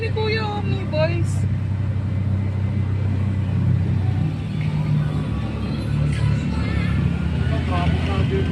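Road traffic rumbles steadily around a moving tuktuk, a low continuous engine and street drone with occasional horn-like tones, while people talk over it.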